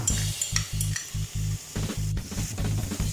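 Ginger and garlic fry with golden onions in a pan for mutton chukka, a loud continuous sizzle broken by rhythmic scraping strokes of a spatula stirring close by.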